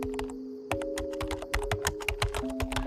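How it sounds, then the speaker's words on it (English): Rapid, hard typing on a computer keyboard in an office with cubicles, dense clattering keystrokes in quick bursts over a steady background hum, no voices. "The typing was fast, really fast, like someone was just mashing keys as hard as they could."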